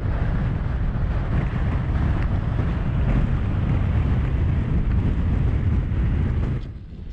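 Strong wind on a grassy mountain ridge in the Scottish hills, a loud, steady roaring buffet against the microphone with deep rumbling gusts that ease off near the end.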